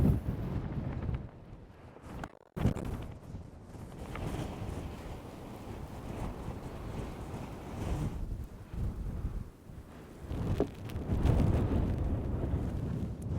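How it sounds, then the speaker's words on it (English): Strong cold wind at 30 to 40 miles per hour buffets the microphone on a mountain summit, roaring and gusting in heavy surges throughout. "The wind must be 30 to 40 miles per hour"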